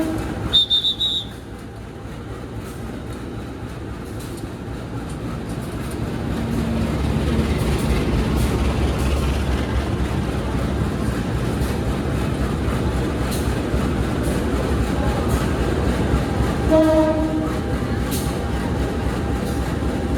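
A Doho commuter train on the East Java loop line gives a steady, loud rolling rumble throughout, with a short high tone near the start and another brief tonal sound late on.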